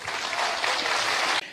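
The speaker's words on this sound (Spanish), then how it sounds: "Fuerte aplauso." Applause during a Spanish-language church service, a dense wash of clapping from the congregation that holds steady, then cuts off sharply near the end.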